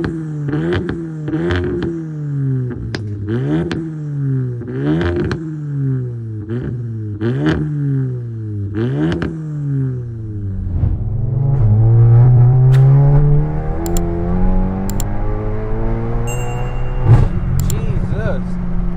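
A 632bhp Seat Leon Cupra runs through a rapid series of rising engine revs and gear changes, loud and close, then settles into a sustained strained pull as it accelerates, with people talking over parts of it.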